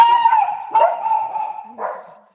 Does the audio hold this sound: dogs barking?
yes